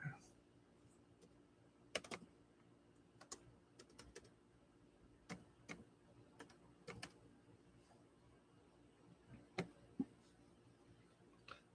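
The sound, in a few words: typing on a computer keyboard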